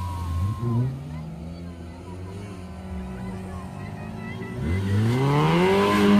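An off-road trophy sprint car's engine revs and strains as it passes through deep mud and water, the pitch rising and falling with a fresh surge near the end, while someone talks over it.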